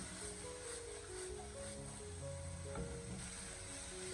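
Cabbage and carrots stir-fried over high heat in a wok, with a steady, close sizzle and crackle that runs unbroken, plus the scrape and toss of the stirring.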